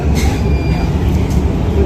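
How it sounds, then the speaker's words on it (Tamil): A Mumbai metro train pulls away from a station, filling the carriage with a steady, loud low rumble and hum that runs continuously from start to finish, with faint higher rail whine above it. "இப்போது ஸ்டார்ட் ஆகிடுச்சு மெட்ரோ, தெரியுதா உங்களுக்கு?"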